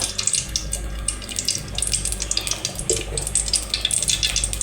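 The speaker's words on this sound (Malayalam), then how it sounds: "നമുക്കിനകത്തോട്ട് കുറച്ച് എണ്ണ ഒഴിക്കാം" Cooking oil is poured into a hot pan while making a fish curry, a close, steady splashing hiss with a few brighter spatters and no talking.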